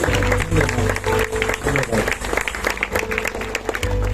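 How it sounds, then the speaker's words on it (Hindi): An audience at a yearly Bible class claps loudly and continuously in dense, sustained applause that carries through the whole stretch, with a voice speaking over it. "यीशु के नाम में आइए जोरदार ताली हम लोग परमेश्वर की महिमा के लिए"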